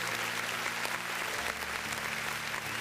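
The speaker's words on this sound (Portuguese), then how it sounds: "Vamos dar um aplauso ao Senhor pela vida do Pedro." Church congregation applauding during a worship service, steady dense clapping that fills the room throughout, loud and continuous without a break.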